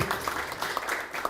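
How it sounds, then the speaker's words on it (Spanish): Lively crowd clapping at an academic constitutional-law event, greeting a guest speaker who has just arrived from Lima; a brief, fairly even patter of many hands, moderately distant and soft. "lo recibimos con un fuerte aplauso"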